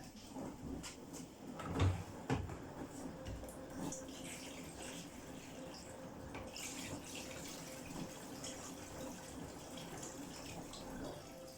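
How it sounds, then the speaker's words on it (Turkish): Water gushes steadily into a washing machine as it fills for a wash of a quilt and a runner, a continuous splashing rush with a few louder knocks early on. "İçine göz kararı su ekleyeceğim."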